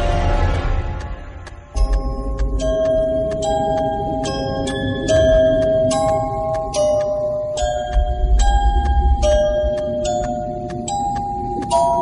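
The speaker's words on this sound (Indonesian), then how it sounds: "aku terbangun lagi karena mendengar suara kotak mainan berbunyi" A music box plays a slow, tinkling melody of bright plucked metal notes that ring out and overlap, steady and fairly loud, with a low rumbling drone beneath and no voices.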